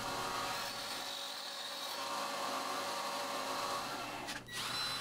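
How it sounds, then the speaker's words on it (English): Dowel ends being rounded over on a woodworking disc sander, a steady broadband whirring grind that runs continuously at close range with a brief dip near the end. "I rounded over the ends of a couple dowels on the disc sander."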